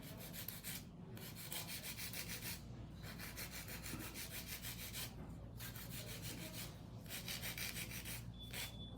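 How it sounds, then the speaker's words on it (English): A nail file shapes an acrylic nail with soft, steady back-and-forth strokes, a quiet, close gritty rasp in even rhythm with brief pauses between passes. "my filer is for me to make the shape more crisp"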